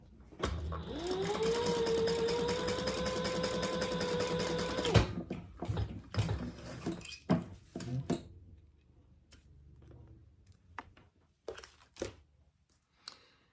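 A sewing machine runs in one sustained whirring burst of about four seconds, stitching a vinyl purse, followed by scattered clicks and handling sounds as the work is adjusted.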